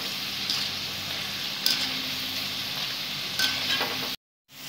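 Cauliflower 65 pieces deep-fry in hot oil, giving a dense, continuous close sizzle with occasional stirring clinks, before it cuts briefly to silence near the end.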